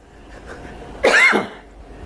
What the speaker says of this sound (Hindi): मुझे सर्दी हो रखी है, खांसी हो रही है